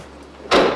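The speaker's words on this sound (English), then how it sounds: "You open the door, there's a little panel right here," An RV's exterior panel door over the diesel tank is handled, giving a single sharp clack of the door opening after near silence.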